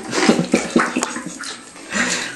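Bath water sloshing in waves in a bathtub, a child stirring it up so it slaps and splashes in irregular close bursts, echoing in the bathroom.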